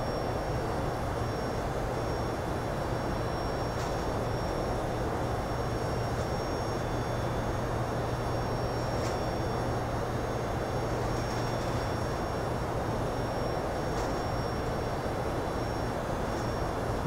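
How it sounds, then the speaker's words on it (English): Steady broadband roar of a Boeing 757-200 airliner descending quickly with flaps extended in the X-Plane 11 flight simulator, a continuous cockpit rumble with a low hum and faint intermittent clicks, no talking. "Really letting the plane drop down here pretty quick."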